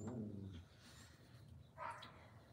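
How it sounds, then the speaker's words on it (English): Dogs bark faintly in the distance outdoors, a couple of short bursts against low background noise. "You're going to hear the dogs bark"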